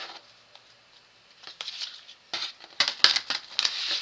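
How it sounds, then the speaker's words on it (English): A deck of playing cards being shuffled, with soft sporadic ticks that thicken into a quick run of crisp clacks as the cards hit the table, close and fairly quiet. "Let me shuffle these first. That way y'all don't hear the clickety clacks."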